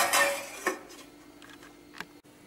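A lid set down over a bowl of kneaded methi chapati dough, giving a loud clatter of dishware at the start, a second sharp knock, and a lighter tap near the end in an otherwise quiet kitchen.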